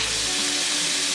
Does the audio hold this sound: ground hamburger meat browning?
yes